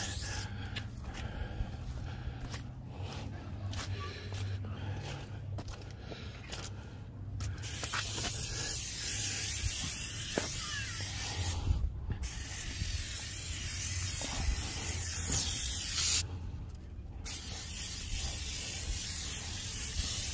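A steady, close hiss of pressurized water spraying onto a truck, running almost continuously with a few brief pauses.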